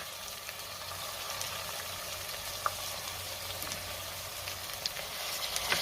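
Tomatoes, chopped coriander and mint sauté in a pan for a lentil pulao, giving a steady, soft sizzle and frying hiss with a few faint stirring clicks throughout.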